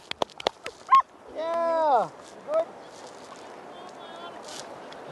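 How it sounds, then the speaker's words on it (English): A dog gives a few short barks amid outdoor noise, with a drawn-out whining yelp and scattered clicks and knocks nearby. "Even the dog barking."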